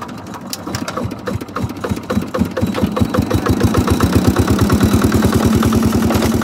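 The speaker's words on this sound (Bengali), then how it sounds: "মাঝি নৌকা স্টার্ট দিয়ে দিল, আমরা আস্তে আস্তে এগোতে শুরু করলাম।" A motor boat engine on a river crossing in rural Bangladesh starts up and settles into a loud, rapid, regular chugging. It runs close and continuously until it cuts off abruptly at the end.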